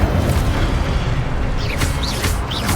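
The Incendio fire spell from Hogwarts Legacy erupts in a loud, dense, rumbling blast that sustains throughout, with brief whooshing sweeps on top.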